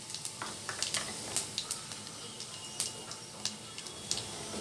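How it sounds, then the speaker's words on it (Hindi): Cumin seeds sizzling in a little oil in a kadai, a soft, continuous frying hiss dotted with small crackles and pops, close up and fairly quiet. "कढ़ाई में 2 टेबल स्पून ऑयल डाली। ऑयल ज़्यादा डालने की ज़रूरत नहीं है। अब सबसे पहले हम ज़ीरा डालेंगे"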